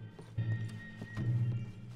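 Two horses gallop in Red Dead Redemption 2, their hooves giving two quick bursts of heavy clip-clop at close range over the game's steady ambient hum.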